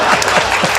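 Dense applause from a large audience at a comedy performance, steady and loud, filling the whole moment without pause.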